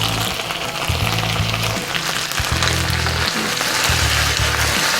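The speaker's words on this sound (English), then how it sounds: "They're browning up. They're not sticking to my pan." Ham hocks frying in a pan, a loud, steady sizzle with crackling spatter and intermittent low bumps from the pan as they brown.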